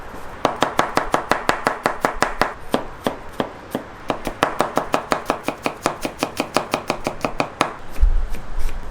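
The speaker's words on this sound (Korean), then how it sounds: "마늘을 찹을 해주겠습니다" Rapid, steady knife chops on garlic against a cutting board, a long run of sharp close taps with a brief pause in the middle, loud and without talk.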